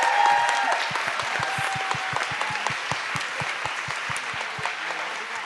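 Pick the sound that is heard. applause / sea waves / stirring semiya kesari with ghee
applause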